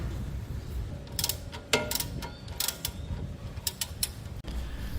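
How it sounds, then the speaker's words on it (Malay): A wrench ratchets a 19 mm bolt holding the lower arm of a Perodua Alza, with quick clicking bursts of the pawl and clanks of metal, close and alone. "Kita keluarkan skru nombor 19 untuk yang menahan arm ni."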